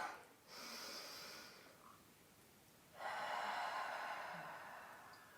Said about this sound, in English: take one more deep breath in and out